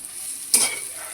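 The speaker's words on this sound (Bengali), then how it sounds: "এবার এগুলোকে ভালো করে তেলের মধ্যে ভেজে নেব" Onion, ginger, garlic and green chilli paste frying in hot oil for a fish korma, a soft steady sizzle with one brief louder stir or scrape in the middle.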